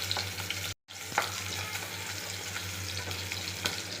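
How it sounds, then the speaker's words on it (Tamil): About ten small onions sauté in coconut oil for a Kerala coconut side dish, making a close, steady sizzle with soft stirring scrapes and one brief drop to silence. "சின்ன வெங்காயம் ஒரு 10 கிராம் போட்டிருக்கேன். ஒரு 10 வெங்காயத்தை நல்லா வதக்கிக்கிடணும்."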